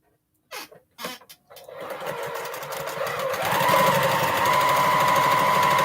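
After a few short starts, a sewing machine settles into a fast, continuous whir while stitching a placemat, the motor building steadily louder and holding close and even.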